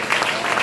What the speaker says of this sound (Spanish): déle ese aplauso a Él, por favor